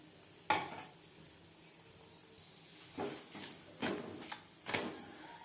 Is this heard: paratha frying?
yes